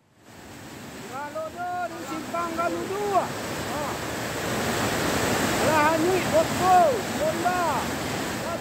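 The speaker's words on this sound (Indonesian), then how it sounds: "seperti inilah dahsyatnya banjir lahar hujan saat menerjang permukiman warga di Kabupaten Agam, Sumatera Barat" A volcanic cold-lava mudflow from Mount Marapi floods through a village in Agam, West Sumatra, making a continuous heavy rushing roar of water and debris while people shout and call out nearby.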